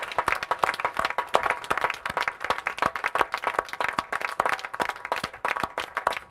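An audience applauds an award recipient at a live event, sustained dense clapping with sharp individual claps standing out throughout, fairly close and loud, with no speech over it.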